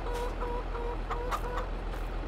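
Chickens in Farming Simulator 22 cluck in short repeated bursts, fairly faint and steady over a low constant engine-like hum, with no talking heard.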